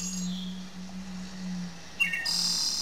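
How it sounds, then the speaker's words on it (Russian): Faint forest birdsong from a browser music lab, heard as a few thin, high chirps near the end over a steady low hum. "Птичка поет."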